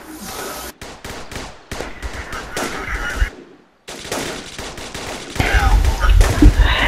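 Bursts of rifle and machine-gun fire crackle from soldiers in a trench in a military video game, in irregular rapid volleys, near and loud, with a brief silent gap midway and heavier fire near the end.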